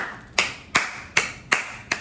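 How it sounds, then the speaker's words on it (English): One person claps for themselves: five crisp, evenly spaced hand claps in quick succession, close and clear, with no talking. "Because I know how this looks, me clapping for myself."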